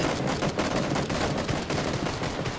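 Rapid gunfire in PUBG crackles in a dense, loud burst of repeated shots. The sharp cracks follow close together without a break across the whole stretch.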